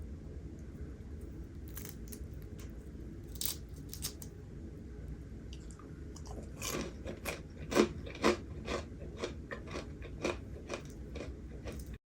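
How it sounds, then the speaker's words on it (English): Extremely crispy fried buttermilk chicken drumstick is bitten and chewed close up; after a quiet start comes a quick series of loud, sharp crunches. "This chicken is dramatically crunchy."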